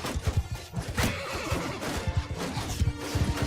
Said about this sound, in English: My horse is so freaking slow.